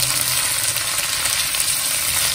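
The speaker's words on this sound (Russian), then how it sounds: "Даем овощам немножко протушиться на масле" Onion, fennel, carrot and garlic sauté in oil in a pan, giving off a steady, close, bright hiss of sizzling that stays even throughout, with no talking.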